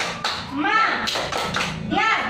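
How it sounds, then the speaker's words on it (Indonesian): Schoolchildren in a classroom perform a rhythmic group clap with chanting, short bursts of hand claps interleaved with their voices over a couple of seconds. "Coba ya semuanya kita tepuk semangat dulu."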